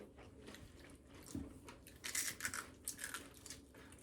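Crunchy air-fried pickles being bitten and chewed up close, a few crisp crunches standing out against quiet background noise, with no talking.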